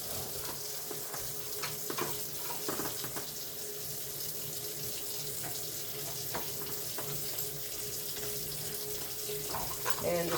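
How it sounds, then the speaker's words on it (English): Potting soil for starting herbs gets wet down with a sink sprayer hose, giving a steady, close rush of spraying water that runs without a break for the whole stretch, with no talking. "So when I wet it down, I'm going to use my sprayer hose just so I don't make a big mess."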